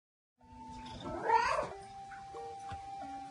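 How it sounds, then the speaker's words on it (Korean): A cat in a home where a couple keeps four cats gives a single soft meow partway through. The rest is quiet background. "고양이 4마리를 키우는 김혜주 씨 부부"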